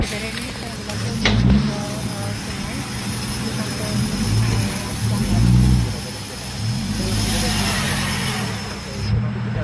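A Kobelco excavator in Menggatal pulls a wrecked car, swept away by river current, up from the water, its engine roaring and surging in repeated waves over a constant rumble, with voices in the background.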